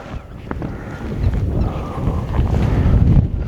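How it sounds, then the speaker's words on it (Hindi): Wind gusts over the Indus river in Pakistan in a continuous outdoor rumble. The blowing roar builds gradually and grows louder toward the end, with no clear talking. "अब हवा चलना शुरू हुई है"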